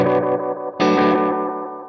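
An Electro-Harmonix Deluxe Memory Boy delay pedal repeats a distorted guitar note in triplet eighth-note echoes, a fresh note striking partway through and its repeats smearing and fading as they trail off.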